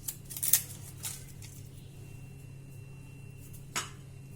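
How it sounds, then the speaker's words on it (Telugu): Dried bay leaf is snipped into pieces for a Chettinad masala: a few crisp cuts, two close together and one later, faint and clear against a low steady hum. "కొన్ని ఎండుమిరపకాయలు, బిర్యానీ ఆకు, దీన్ని ఇలా కట్ చేసి వేసుకోవాలి"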